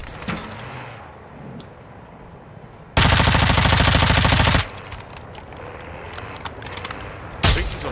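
A video game firefight: a long, loud burst of rapid automatic gunfire lasting over a second, framed by quieter ambient noise, scattered distant shots and a final sharp burst at the end.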